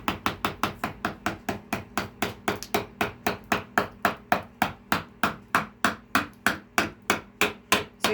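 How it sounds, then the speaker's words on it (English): A hammer drives a flexing putty knife in as a wedge under a spalted maple river table slab, striking sharp metallic blows in a steady rhythm of roughly four per second, close and alone without talk. "Is that a chisel you've put under it that you're hammering in?"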